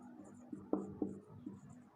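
Marker or chalk writing a word on a classroom board, with a few short distinct strokes and taps close by against a faint room hum, no talking.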